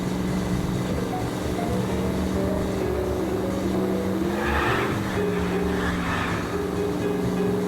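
Car engine from the L.A. Noire video game drones steadily with a humming tone that rises in pitch midway, continuous throughout alongside background music.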